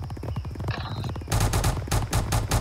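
Sharp, loud bursts of video-game gunfire with repeated rhythmic shots arrive suddenly after a stretch of quieter game sounds and continue steadily to the end.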